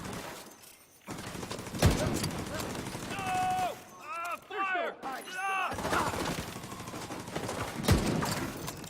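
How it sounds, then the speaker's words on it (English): Heavy gunfire from The Division 2, a minigun and other weapons blasting in rapid bursts with sharp close shots mixed into a loud chaotic firefight, with voices heard briefly. "Oh dear, he's got a minigun."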